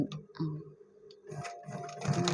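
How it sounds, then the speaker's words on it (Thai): A sewing machine with a small needle backstitches denim jeans at the start of a seam, making a soft, close, rapid ticking and whirring in short bursts. "เย็บย้ำจุดเริ่มต้น"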